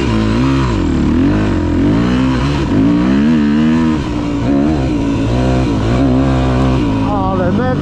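A Yamaha 250 motorcycle engine revs loudly close by, its pitch climbing and dropping in repeated swells as the throttle is worked, with a voice briefly audible over it.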